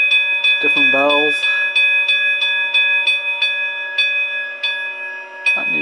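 A Lenz DB Br141 electric locomotive sound decoder in O scale plays electronic bell chimes, a steady run of evenly spaced bright dings with a brief voice-like tonal sweep near the start.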